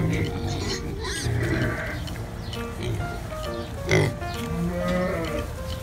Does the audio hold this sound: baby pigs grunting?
yes